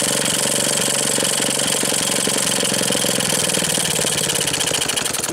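Maytag model 72 washing machine gas engine idling, a loud, steady rapid chugging and knocking close by that carries on without pause.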